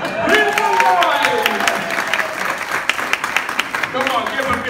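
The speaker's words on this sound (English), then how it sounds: "give him a big round of applause" An audience claps for a magic guillotine act at a live show, with a dense burst of applause that thins into scattered claps while a person talks over it.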